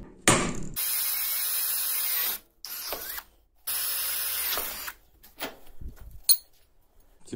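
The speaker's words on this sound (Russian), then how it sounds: "Делаем два отверстия и здесь также под резьбу." A drill bores holes in metal plates for threading, with two sustained, loud, close whining runs separated by pauses, followed by scattered clanks and handling noises.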